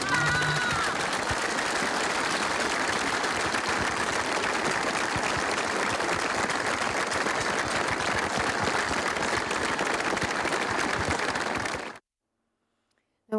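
Mourners outside a funeral for a young woman applaud as white and light-blue balloons are released, a long, steady outdoor wash of clapping from a large crowd that cuts off abruptly near the end.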